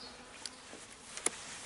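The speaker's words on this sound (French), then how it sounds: "j'aspire les abeilles à fur et à mesure" Bees being vacuumed up during a hive rescue behind a window, giving faint buzzing with a few quick ticks and one sharp click as insects are drawn in, quiet overall.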